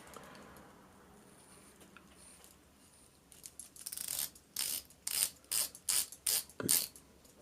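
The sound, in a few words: watch bezel ratcheting as it is rotated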